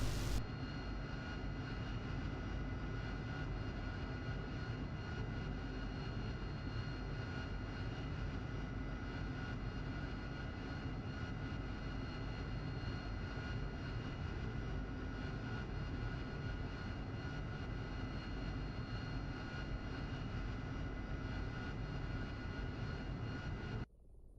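A P-51 Mustang's piston engine runs in a flight sim game, a steady, dense propeller drone with no change in level for about twenty-four seconds, with no talk over it.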